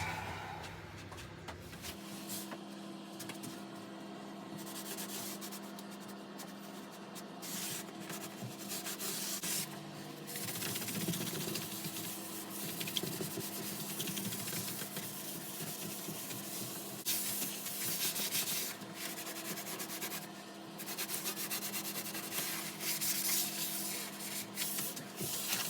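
A spray gun hisses almost nonstop while laying a first finish coat on a scaffold board table, a broad airy spray broken by a few short pauses and small clicks, close and fairly loud with no talking.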